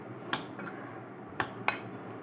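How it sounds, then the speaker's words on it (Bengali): A spoon clinks against a bowl three separate times as banana is stirred with curd for a fruit chaat salad, with quiet background between the sharp taps. "দই দিয়ে কলাটাকে আমি ভালো করে নাড়াচাড়া করে নেব"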